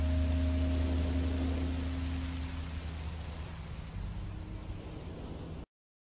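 Steady rain pours down in the video game Minecraft Story Mode, a dense wash of falling drops with a low rumble underneath that fades slightly before stopping abruptly near the end, with no one speaking.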